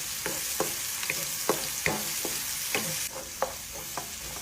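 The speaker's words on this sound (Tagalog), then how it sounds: "Maglalagay lang ako ng mantika at magigisa na tayo ng sibuyas at bawang" Onion and garlic sauté in hot cooking oil as the base for pata humba, a steady close sizzle broken by repeated sharp scrapes and clinks of a spoon stirring through the pan, with no talking.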